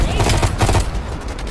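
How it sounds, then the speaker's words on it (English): Rapid, dense gunfire from a Call of Duty Black Ops Cold War firefight, bursts of automatic shots rattling continuously and loudly throughout, with distant overlapping fire in the mix. "you followed the road right toward the sound of gunfire"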